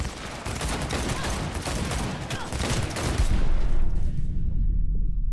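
Dense, sustained gunfire from the video game Cyberpunk 2077 on an Xbox Series S, a loud continuous fusillade of shots and impacts that fills the clip and thins slightly near the end, with no talk over it.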